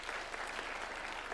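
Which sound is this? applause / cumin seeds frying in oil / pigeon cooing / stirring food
applause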